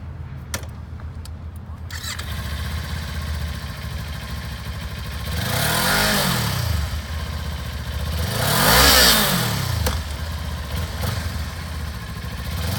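A used 2018 Kawasaki Ninja 400 lightweight sport motorcycle idles steadily up close, then revs twice in smooth rising-and-falling swells before settling back to a steady idle, with no voices.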